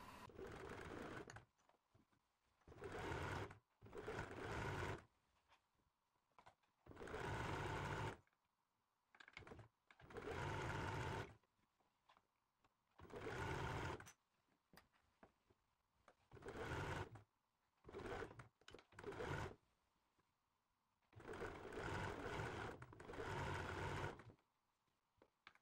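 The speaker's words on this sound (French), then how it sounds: "je vais venir finir le bord avec un point zigzag de 5 mm de large" A domestic sewing machine runs a 5 mm wide zigzag stitch along a fabric edge while making trousers, in repeated bursts of steady mechanical stitching separated by short pauses, clear and close with no talking.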